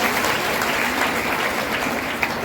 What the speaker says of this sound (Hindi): एक बार अपने लिए ताली बजाओ।